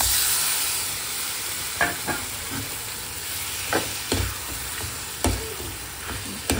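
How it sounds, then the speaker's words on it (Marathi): Brinjal going into hot masala in a pan for bharta, a steady loud sizzle and hiss with a few sharp clacks of stirring or tossing spread through it. "आता आपण हे वांगे घालू, जाते मी वांगे घालून देते"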